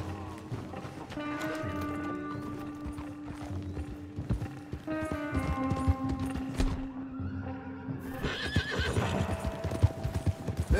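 Horses in Red Dead Redemption 2, with repeated sharp neighs and whinnies over quick clip-clopping hooves, loud and close and joined by busy mechanical rattling, while voices talk over the sounds.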